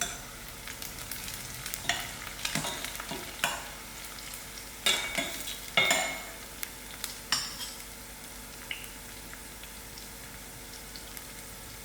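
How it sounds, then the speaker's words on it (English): Onions and dry chilies fry in a pan with a soft continuous sizzle, broken by several sharp scraping stirs and clatters of a utensil against the pan. "allow these onions to fry"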